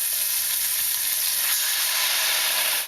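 Lobster stock base with lobster head and Shaoxing wine cooking down in a pan, a loud, dense, steady sizzle and hiss from close up, with no talking.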